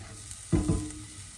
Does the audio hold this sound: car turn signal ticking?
no